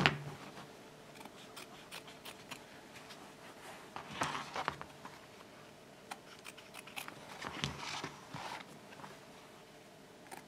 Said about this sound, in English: all you need are the scraps and then you cut them around the edge here